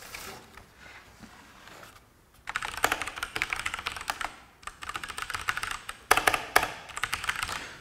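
Typing on a Razer Blackwidow Ultimate Stealth 2014 mechanical keyboard without the click. It starts with faint soft tapping, then moves to bursts of rapid, close keystrokes with a muted clatter, separated by brief pauses.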